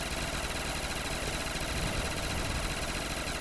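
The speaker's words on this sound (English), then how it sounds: "sorry if you hear my PC in the background" A desktop PC's cooling fan runs in the background during a Black Ops 3 custom zombies session, a steady, even whir and hum that holds without change throughout, with no one talking.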